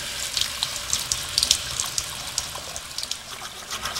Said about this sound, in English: Don't you just love running water?